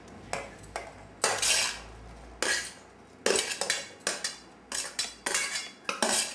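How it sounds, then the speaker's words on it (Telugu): Banana and apple pieces for a fruit salad being stirred in a bowl with a metal spoon, a series of separate scraping clinks and knocks against the dish, close and alone with no voices. "అన్నీ వేసి బాగా కలుపుకోవాలి।"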